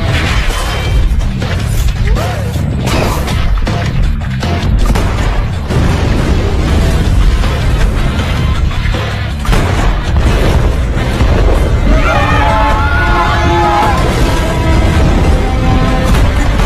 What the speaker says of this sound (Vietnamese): Nòng pháo chính sẵn sàng. Bắn.